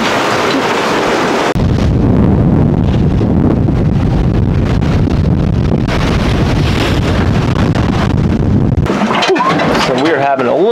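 Strong gale wind roars and buffets the microphone aboard a sailboat, loud and continuous, with the rush of waves and the hull's motion underneath. Near the end comes a brief break with fluttering gusts.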